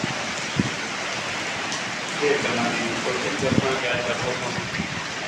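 Heavy rain pours down in a Pakistani village, a steady dense hiss with occasional low thumps and drips standing out close by.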